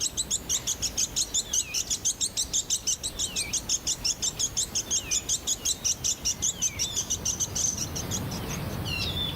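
A Bonin white-eye calls loudly and insistently to mark its territory: a rapid, unbroken run of high, bright chirping notes with a few sliding whistles, close and clear, continuing for the whole stretch with no talking.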